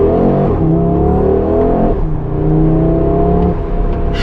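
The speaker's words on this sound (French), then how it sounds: "Ça accélère bien, putain, pour une voiture comme ça" Audi RS3 accelerating hard, the engine note climbing through gears in loud rising sweeps with a brief dip at each shift, close and dominant with no voices.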